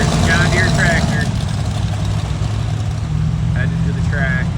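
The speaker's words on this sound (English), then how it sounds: "There's the John Deere tractor." A John Deere tractor engine idles close by, a constant low rumble with a few faint chirping sounds above it.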